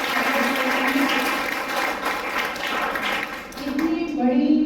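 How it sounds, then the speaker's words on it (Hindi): An audience gives loud applause at a program honoring a team's overall championship trophy win, a dense, sustained wash of clapping that stays strong throughout, swelling again near the end. "तालियों से"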